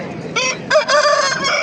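A rooster at a poultry market in Namangan crows once, close and loud, a harmonic call of about a second and a half with a brief break partway through.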